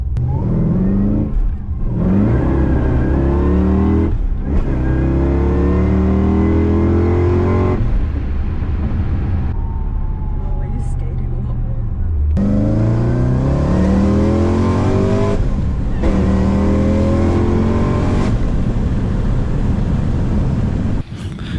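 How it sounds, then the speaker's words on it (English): A car rolls along on a set of newly fitted tyres, its engine humming and rising and falling through gear changes, with steady road and tyre noise close and loud throughout. "We have them on the car. We just went for a little drive."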